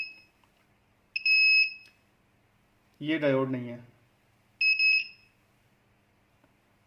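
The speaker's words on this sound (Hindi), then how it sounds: "ये इस साइड से बीप दे रहा है, इस साइड से भी बीप दे रहा है।" A multimeter in continuity mode beeps while probing an Android phone circuit board for a short on the battery line. Three sharp, steady high-pitched beeps sound close by, and someone speaks briefly between them.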